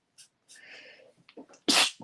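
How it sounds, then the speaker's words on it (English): A single sharp sneeze erupts after a brief breathy buildup, close and loud, followed by a short exhale. "I'm going to sneeze, so I apologize"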